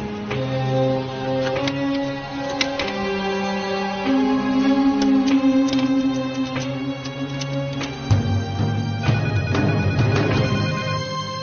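A melodic ringtone plays continuously, bright and fairly loud, repeating its tune with no voices over it.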